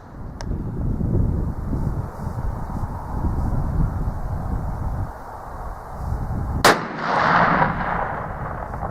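A single loud outdoor report from a TC Impact muzzleloader rifle cracks sharply and trails off in a short rumbling echo, set against steady wind noise buffeting the microphone.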